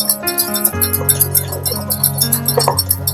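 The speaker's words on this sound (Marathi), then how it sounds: "आता हे छान फेटून घेऊया आपण" A whisk beats moong batter in a bowl with rapid rhythmic metallic clinks and taps, close by, over steady background music.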